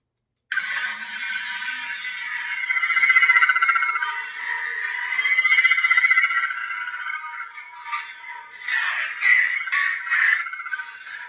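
A toy Darksaber lightsaber buzzes with a bright electronic hum that swells and wavers, followed by choppy swinging and clash effects, loud and without speech.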